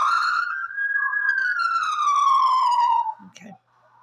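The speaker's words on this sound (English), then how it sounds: "Here's the sirens" A single emergency vehicle siren answers a fire alarm with a loud, clear wail that rises and then slowly falls over about three seconds, followed by a brief clunk and near silence.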